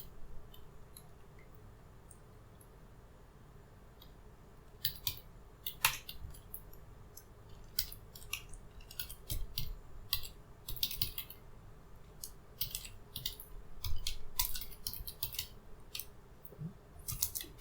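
Typing on a computer keyboard starts after a few quiet seconds, then continues in quick bursts of close key clicks over a low steady hum, with no speech.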